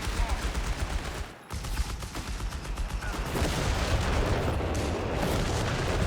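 Artillery air burst barrage in Company of Heroes 3 during a four-versus-four battle, a relentless dense rumble of booms and rapid gunfire layered together, loud and continuous with a short dip before intensifying.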